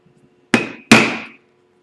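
Two hard, ringing hammer strikes drive a metal punch through leather while making a valet tray, spaced about half a second apart, each with a bright metallic ring that decays quickly.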